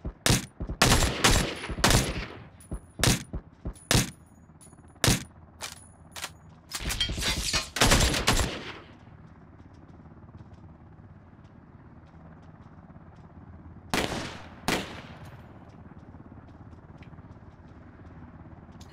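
Suppressed gunfire in a multiplayer shooter game: clusters of sharp, quick shots in bursts, dense for the first several seconds, then a quiet stretch before two more shots near the end.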